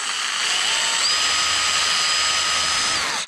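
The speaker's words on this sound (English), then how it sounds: "Then you drill straight across it." A power drill bores through a garden hose with a steady, loud, high-pitched whine that shifts slightly in pitch as it runs, then cuts off abruptly after about three seconds.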